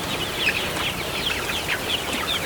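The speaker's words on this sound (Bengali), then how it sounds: "তো এই পাশের ঘরের মুরগিও ভালো আছে" Chickens cluck and chirp steadily in a crowded broiler poultry house, a dense flock sound of overlapping calls at moderate loudness with no talking.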